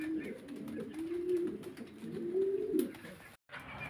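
Fancy pigeons at a farm in Faridpur coo steadily up close, low throaty rolling calls overlapping in a continuous murmur with a brief drop near the end.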